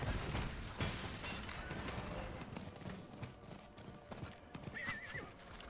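Horse hooves clip-clop at a steady gallop while a rider crosses a Diablo IV game world, with dense game noise, clashes and a brief whinny layered over the hoofbeats throughout.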